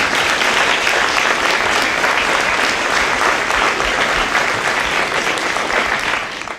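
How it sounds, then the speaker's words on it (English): Audience at a US secretary of education event giving a round of applause, dense sustained clapping from a large crowd that carries on steadily for several seconds and fades at the end. "I'd just like to ask you to give them all a round of applause for what they have."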